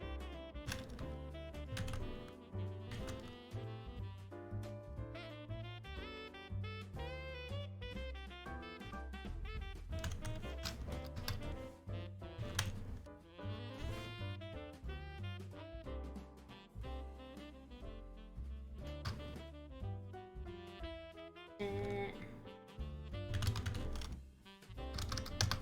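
Continuous rapid clicking of computer keyboard keys runs at an even pace for the whole stretch, with no voices.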